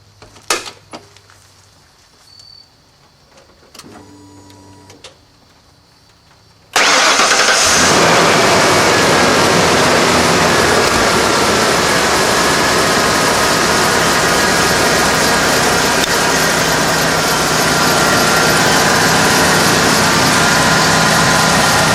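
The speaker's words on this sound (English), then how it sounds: "let's go ahead and cold start it and see if everything runs" A 1995 Ford F-250 4x4 engine cranks briefly and catches on a cold start, then settles into a loud, steady idle that runs on alone at close range.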